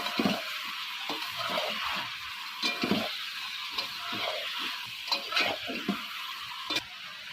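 Meat is being sautéed in a pan, a steady hiss of frying broken by repeated scraping and clattering as a spatula stirs, close and moderately loud.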